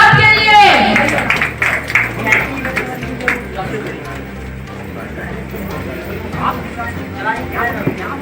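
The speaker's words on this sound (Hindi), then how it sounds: "जबरदस्त तालियां होनी चाहिए हमारी फर्स्ट रनर अप के लिए" Applause from the crowd at a Bhagalpur modelling pageant as the first runner-up is crowned, a dense patter of clapping that runs throughout, mixed with crowd noise and voices.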